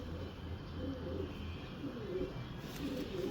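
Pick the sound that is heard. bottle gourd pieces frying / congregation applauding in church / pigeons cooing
pigeons cooing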